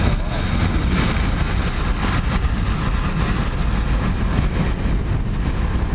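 A long freight train rumbles past close by, a loud, steady low roar of rolling wagons with a faint hiss of wheels and no breaks.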